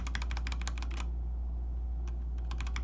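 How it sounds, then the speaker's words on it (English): Lubed Gateron Black switches on an Epomaker EP84 keyboard are typed in quick, muted bursts of clicks, followed by a pause and then another short run of keystrokes, close and quiet. "here's the lubed gateron black"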